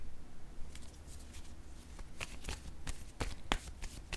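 Tarot cards shuffled by hand in a quiet room, with a run of soft riffling flicks and sharper card slaps, close and fairly faint, with no talking.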